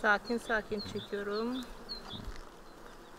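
Honeybees hum around an open beehive as a beekeeper slowly lifts out frames holding pollen and brood, the soft buzzing droning close by beneath a man's calm speech.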